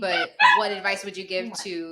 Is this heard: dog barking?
yes